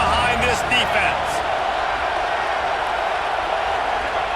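A stadium crowd in EA Sports College Football 26 roars steadily in a loud, dense, continuous wash of cheering that holds evenly throughout, with no clear talk over it.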